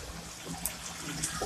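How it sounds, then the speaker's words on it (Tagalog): Broth pours into chopped bottle gourd cooking in a pan, giving a brief, close splashing trickle of liquid with no voices. "Lagyan ng sabaw."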